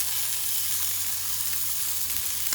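Sausages sizzle steadily in a frying pan, a continuous close hiss of frying fat with faint pops and crackles, heard alone without talk.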